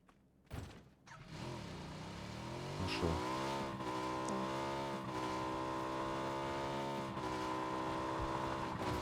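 A vehicle in a video game drives nearby. After a sharp click the engine revs up, then holds a steady, fairly loud drone with slight shifts in pitch, and nobody talks.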